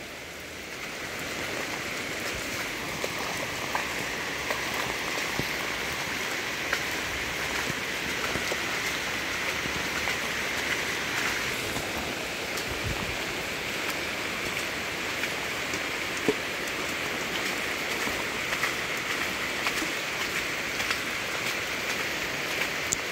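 Steady rain falls after a typhoon amid flooding, a continuous even hiss with a faint low rumble throughout.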